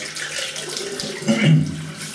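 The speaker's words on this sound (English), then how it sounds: "let me just wet my face" Water from a tap or tub runs and splashes close by as hands gather it to wet a face before shaving, a steady rushing stream with a brief louder splash near the end.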